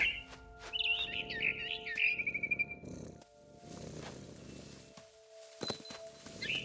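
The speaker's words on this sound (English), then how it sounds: "Then I heard chirping outside my window. It was a barn swallow going back to her nest." A barn swallow chirps in rapid, bright bursts outside a window in the video game What Remains of Edith Finch, the calls close and clear over a low ambient bed, followed by rustling and a few soft thumps with no speech.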